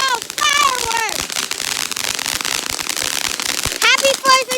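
Dense Fourth of July fireworks crackle and bang loudly and continuously, a rapid fusillade of sharp pops, while people whoop and exclaim at the start and end.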